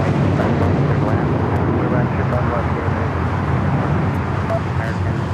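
An airliner rumbles in on runway 25 right at LAX, a loud, steady low roar of jet engines and rushing air filling the whole stretch, with a radio voice talking over it.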